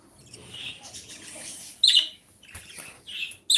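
A cinnamon budgie chirps in short bright bursts with pauses between, close and fairly loud, one sharp call near the middle and others toward the end, over faint room background.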